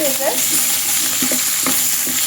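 Okra masala with turmeric, cumin powder and Kashmiri chilli powder is sautéed in a pan, giving a close, even sizzle with a few spoon scrapes and clinks over its short length.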